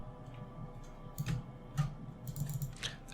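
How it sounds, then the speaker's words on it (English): Soft keys tapped on a computer keyboard during design work, a few sparse, light clicks with quiet gaps between them, heard alone against faint background hum. "press S on the keyboard"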